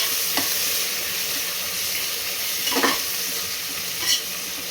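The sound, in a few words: coriander leaves frying in oil for mutton biryani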